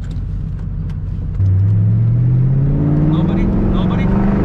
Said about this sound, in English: A second gear pull really shows you how much this thing picks up.